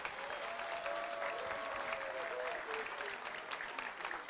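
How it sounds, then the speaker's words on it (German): Audience applause fills a German TV music show held at the Sportarena Speyer, a steady, dense wash of clapping from a large crowd that holds evenly throughout, with a faint tonal hum beneath. "Applaus."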